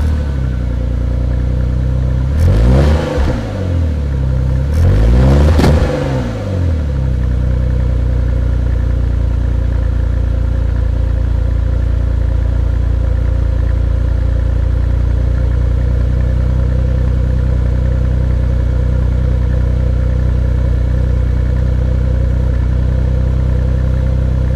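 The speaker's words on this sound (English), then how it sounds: "it's got a little bit of a misfire when you try and rev it." Jaguar X-Type engine idling steadily with two short revving bursts early on, each rising and falling quickly, with a slight misfire when revved; close and loud, no talking.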